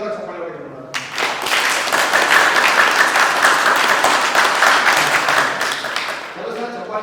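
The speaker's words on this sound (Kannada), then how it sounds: "ಸರಿ, ಈ ಒಂದ್ಸಲ ಜೋರಾಗಿ ಚಪ್ಪಾಳೆ ಹೊಡೆದು ನೋಡೋಣ." An audience at a training session breaks into loud, dense applause that swells quickly and holds for several seconds before fading, with a voice speaking just before and after.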